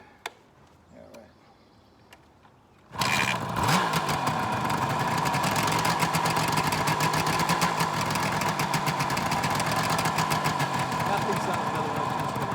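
A 1974 Suzuki GT380 Sebring motorcycle kicks into life after a quiet few seconds, then idles loud and close with a steady, buzzy two-stroke rattle.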